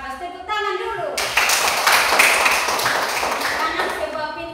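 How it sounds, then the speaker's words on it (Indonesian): A class of primary schoolchildren in an Indonesian elementary school bursts into loud, dense group applause that keeps going for several seconds, with a teacher's voice heard just before it begins. "Tepuk tangan dulu."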